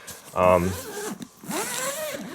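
A zipper runs along the padded gig bag of an Eastman MDA-315 mandola, close and rasping for about two seconds, with someone talking over it.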